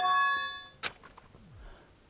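A bell rings in the video game Danganronpa 2, starting with a sustained ringing tone, then a sharp metallic clang followed by a few softer ringing hits that fade out.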